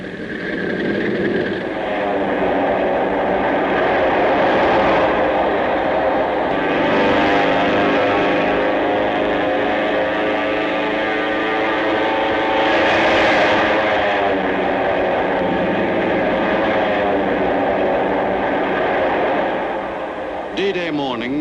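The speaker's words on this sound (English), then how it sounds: "the carrier planes were readied for their last pre-invasion strikes" Aircraft engines drone steadily on a World War II carrier deck before dawn as planes are readied for pre-invasion strikes in the Pacific, a loud continuous roar across the whole stretch in archival film sound.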